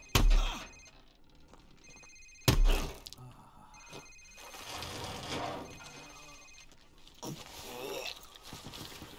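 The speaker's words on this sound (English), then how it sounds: "Sir, it's his cell phone." A cell phone rings inside the game Call of Duty Modern Warfare Remastered, its repeating tones sounding through a tense interrogation scene with sharp thuds, background noise and voices speaking.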